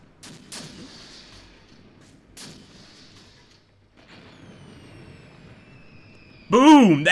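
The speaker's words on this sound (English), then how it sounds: "It looks like the artillery just dropped right on top of him." Artillery rounds land in a Tunisia 1943 tank warfare video game: a few scattered dull booms, then a loud, sharp blast at the end, with a person talking faintly underneath.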